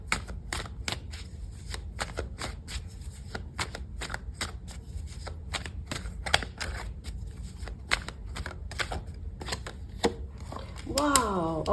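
A deck of tarot cards is shuffled up close in rapid, crisp riffling bursts that continue steadily. A voice briefly enters near the end.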